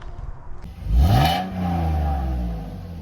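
A 2012 Honda Odyssey minivan's J35 engine, running with straight-piped exhaust, rises from a rough idle into a loud rev that peaks and falls back to a raspy, sustained higher idle, heard up close.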